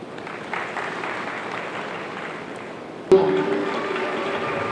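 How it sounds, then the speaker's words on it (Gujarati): A crowd claps at a district-level Van Mahotsav tree-planting ceremony in Puniyavat: steady, sustained applause that swells louder partway through and continues to the end. "એકવાર તાળીઓનો જોરદાર ગડગડાટ થઈ જાય"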